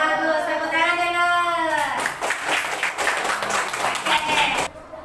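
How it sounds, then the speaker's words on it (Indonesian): A classroom of students breaks into steady applause for group 2, the dense clapping rising after a teacher's voice and carrying on for several seconds before stopping abruptly. "Tepuk tangan dulu."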